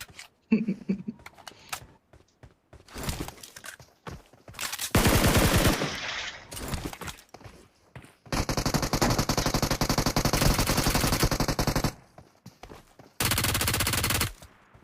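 MG3 machine gun in the PUBG battle royale game firing three long sustained bursts of rapid automatic fire, with scattered single shots and faint movement noises in the quieter gaps between them.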